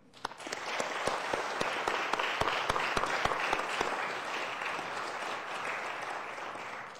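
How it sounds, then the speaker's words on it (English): Audience applause at the Nasdaq opening bell ceremony, sharp claps building quickly into a dense, steady round that fades gently toward the end. "So let's give a round of applause to kick off today's ceremony."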